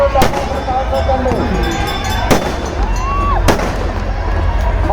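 Firecrackers at a Ganesha immersion procession, three sharp loud bangs spread across a few seconds over a continuous crowd din with whistling fizzes between them.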